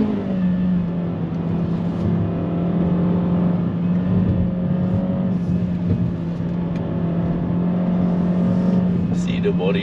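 Honda HR-V V Spec Turbo accelerating uphill on a mountain hill climb, a steady droning engine hum with a constant low tone held throughout, heard from inside the car with a voice talking over it.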